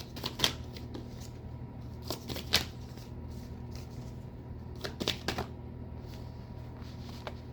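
Tarot cards shuffled by hand in a quiet room, with several short riffling bursts separated by pauses and no talking.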